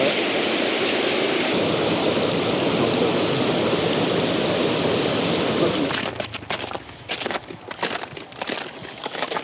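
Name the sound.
cascade of water from draining glacial lake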